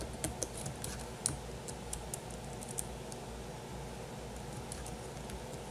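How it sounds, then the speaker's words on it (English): Fingers type on a computer keyboard, entering business-letter details into a database. Quick, irregular clicks and taps sound close, with no one talking. "let's type it in"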